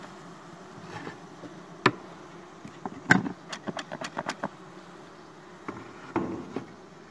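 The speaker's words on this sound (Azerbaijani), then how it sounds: "Və bir başqa arı yeşiyini istəyirəm açın." Honeybees hum steadily around an opened wooden hive box as frames are handled, with sharp knocks and clatters breaking through the faint buzzing.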